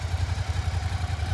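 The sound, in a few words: 2013 Suzuki SFV650 Gladius V-twin motorcycle engine running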